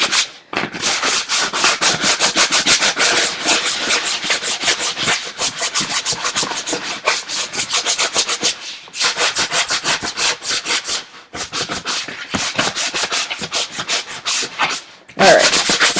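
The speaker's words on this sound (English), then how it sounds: "I'm just sanding a little bit off the shiny surface" Sandpaper is rubbed back and forth over a shiny surface in quick, rhythmic rasping strokes, close and fairly loud, with a few brief pauses between bursts and no speech.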